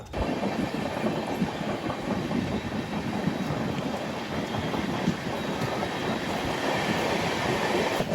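The Vivek Express, running from Kanyakumari to Dibrugarh, rushes past close by in a steady, loud roar of wheels and carriages with continuous clickety-clack, unbroken for several seconds.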